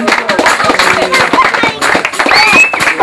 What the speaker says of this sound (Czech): zatleskáme vítězům.